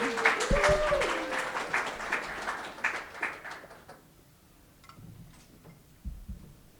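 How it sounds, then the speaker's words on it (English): Poetry slam audience at a convention applauding, a burst of clapping with a voice over it that fades after a few seconds, leaving scattered claps and quiet room noise. "One more round of applause as we're looking for a new poem"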